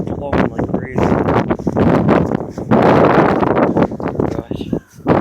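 Strong storm wind roaring and gusting in a loud, continuous rush with brief lulls, buffeting the microphone, while a person talks over it.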